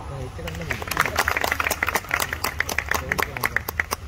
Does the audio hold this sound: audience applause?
yes